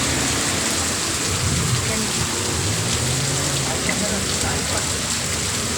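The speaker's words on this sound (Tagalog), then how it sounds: "Eh, lumakas ang ulan." Dense, steady heavy rain pours down without letup, a broad constant roar with faint voices underneath.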